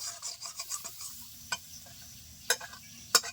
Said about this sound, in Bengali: আমি আরও চার চার মিনিট এরকমভাবে নেড়ে ছেড়ে নেব